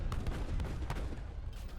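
Heavy cannon artillery fire in a strategy video game rumbles as a rapid, dense barrage of overlapping booms and cracks, faint and continuous without pause.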